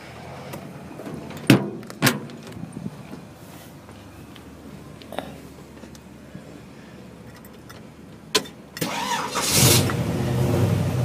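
A 1950 Chevrolet 3100 pickup engine cranks over with a few clicks and thumps, then catches near the end and settles into a loud, steady running roar close by.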